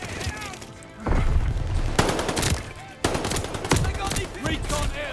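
Rapid automatic gunfire in Call of Duty: Vanguard, loud close bursts breaking out in several sharp volleys over a short stretch.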